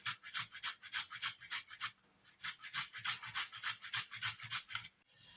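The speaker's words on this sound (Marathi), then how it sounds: "तर आपल्याला हे आलं असं किसून घ्यायचंय." Fresh ginger is grated by hand while making onion kachori. Quick, even rasping strokes repeat in a steady rhythm, with a short break partway through before the scraping resumes. Close and fairly soft.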